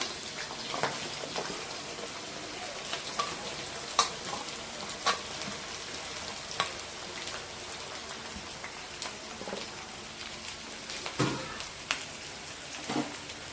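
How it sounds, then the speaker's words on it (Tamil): Onions sautéing in hot oil for a chicken kuzhambu, a steady soft crackle and sizzle with scattered sharper pops, moderately close and with no talking. "வெங்காயம் நல்லா பொன்னிறமாக வறுக்கிற மாதிரி செவக்க வதக்கிக்கலாம்"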